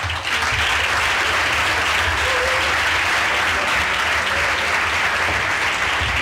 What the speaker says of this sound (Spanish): No tuve que pedir aplausos.